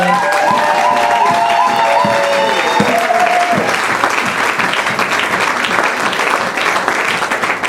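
A church congregation claps and cheers loudly together at a morning service, a dense and continuous wall of applause that stays close and full throughout, with a few voices shouting within it.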